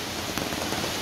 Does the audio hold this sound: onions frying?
no